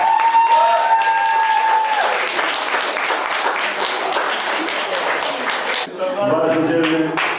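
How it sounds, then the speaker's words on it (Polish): An audience at an outdoor art festival claps steadily for several seconds, a dense, close round of applause, with a voice speaking briefly at the start and again near the end. "Wielkie brawa!"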